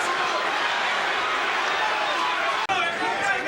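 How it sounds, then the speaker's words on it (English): A boxing arena crowd roars steadily through a Sugar Ray Leonard versus Roberto Duran fight, a dense, loud wall of cheering and chatter broken only by a brief dropout near the end. "Now you can hear the crowd again"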